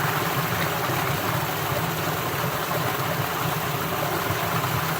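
An Appalachian mountain stream rushes steadily, a constant broadband roar with no breaks, close by and fairly loud.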